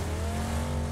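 A motorcycle engine in the PUBG video game drones steadily at close range, a sustained tonal hum held briefly with no voices over it.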